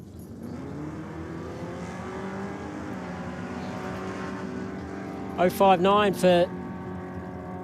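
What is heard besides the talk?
Ford Cortina and Holden Ute drag racing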